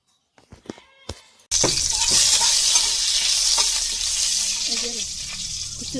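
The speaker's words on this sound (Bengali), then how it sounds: "একই কড়াইয়ের মধ্যে আমি আবার তেল দিয়ে দিছি আগে থেকে রসুন দিছিলাম" After a few light clicks, garlic hits hot oil in a wok and bursts into a loud, close, continuous sizzle that holds steady to the end.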